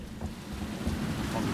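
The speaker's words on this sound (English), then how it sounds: "The rain is just flooding in." In the Resident Evil 2 Remake video game, heavy rain pours in through a smashed window as a steady, rumbling downpour with low thunder-like roll, brief and fairly loud.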